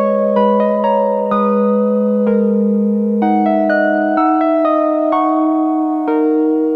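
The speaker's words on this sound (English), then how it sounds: "It's called Beauty Harp, and it sounds like this." Beauty Harp synth preset from Analog Lab playing a plucked, harp-like melody with chords, bright bell-like notes struck in a gentle rhythm over a sustained low tone, loud and clear with no voices.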